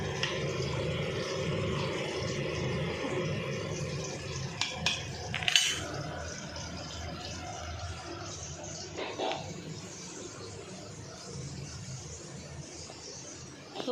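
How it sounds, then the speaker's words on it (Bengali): Khichuri being stirred in a cooking pot for a Ganesh puja offering meal: a low steady cooking rumble with a few metallic clinks and scrapes of a spoon against the pot midway. "আর খিচুড়িটা একটু নাড়া দিয়ে নিই"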